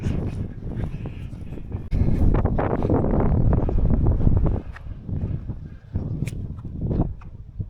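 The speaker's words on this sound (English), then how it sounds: "And it's still bloody windy." Gusty wind buffets a microphone with loud rumbling bursts that rise and fall, alone outdoors.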